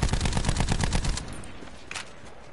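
Video game gunfire in a mature-rated shooter: a rapid loud burst of automatic shots for about a second, then fading echo and a few scattered fainter shots, no talk.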